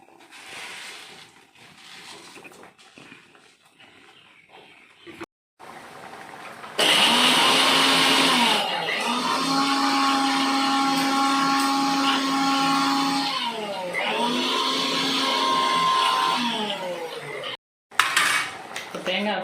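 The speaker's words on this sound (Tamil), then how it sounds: "மிக்சியில் தேங்காய், சோம்பு, மிளகு, பூண்டு இதெல்லாம் எடுத்து வச்சுருக்கோம்னா இதெல்லாம் ஒன்றா மிக்சியில் அரைச்சிட்டு வந்துடுறேன்" Kitchen mixer grinder blending coconut, fennel seeds, pepper and garlic, a loud whirring motor roar that pulses and shifts pitch for about ten seconds after clinking utensils, then stops abruptly.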